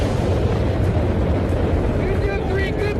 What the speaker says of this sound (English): Hey, bomb inbound, come on! There it is!